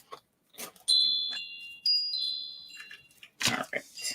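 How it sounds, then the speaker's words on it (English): Real wind chimes hang outside a window, giving several clear, sustained metallic tones that ring and overlap for a few seconds, with people talking softly before and after. "that's my wind chimes right there"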